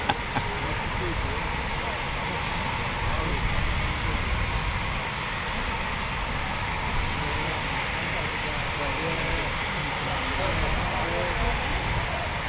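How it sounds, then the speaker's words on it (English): A Eurofighter Typhoon FGR4 jet roars in a steady, broad, rumbling wash during a performance takeoff, heard from a distance with no clear rise or fall. "I think we're going to get a few more performance takeoffs"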